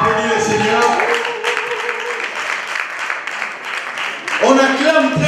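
A church congregation applauding at a wedding, a steady wash of clapping from many hands beneath a voice and tonal music, fairly close.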